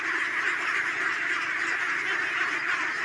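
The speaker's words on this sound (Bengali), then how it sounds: "এই দেখেন কত সুন্দর করে হাঁসটি দেখেন" A large flock of ducklings kept on a Bengali duck farm quacks and peeps continuously, a dense, busy chorus of many young birds close by with no talk over it.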